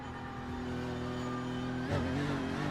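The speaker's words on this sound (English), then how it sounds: "I certainly like the engine sound more in this game" A GT3 race car engine in the iRacing simulator at Spa drones steadily at moderate volume, then the pitch jumps as the revs change near the end, with no talking.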